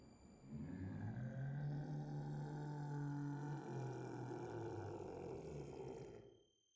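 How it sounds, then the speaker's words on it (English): A giant's howling roar from an anime fight, Fate/Stay Night's Heracles, a long, deep, sustained bellow that holds steady for several seconds before cutting off, loud and alone. "in response, the giant behind her howls"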